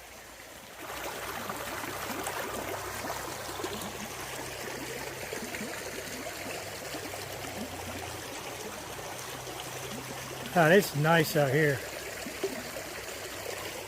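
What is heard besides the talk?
creek water flowing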